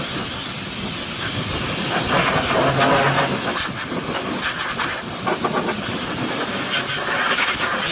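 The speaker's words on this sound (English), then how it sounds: "I'm just gonna use some compressed air and just clean this up a bit" Compressed air blasts debris away around the headlight area of a 2003-2009 Subaru Legacy, a loud, continuous close-up hiss with short surging bursts and faint clatter.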